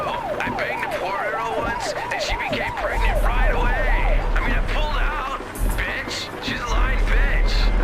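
Police car siren in GTA San Andreas wails up and down in a steady, fast rise-and-fall for several seconds, loud and close, then fades into busy game noise with other bursts and rumble.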